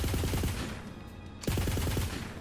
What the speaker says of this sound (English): and it is doing burst fire